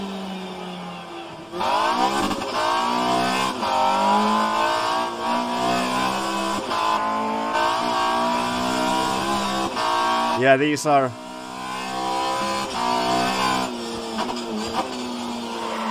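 Early-1990s BTCC touring cars in rFactor 2 at Oulton Park, engines droning and revving through gear changes across a big grid, with a sharp rising rev burst near the middle, heard under steady talk from a driver.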